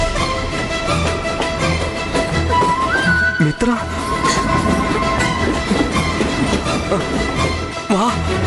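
A train runs past in a film scene: a loud, continuous rolling rumble with a brief tonal whine that rises partway through and a short dip near the middle.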